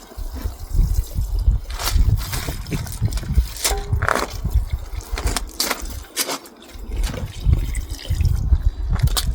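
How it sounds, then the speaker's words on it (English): Gentle spray from a garden hose wetting a pot of layered spring bulbs, a soft uneven hiss and patter of water with short gaps, close by and alone. "I'm going to get the hose just to hose it off."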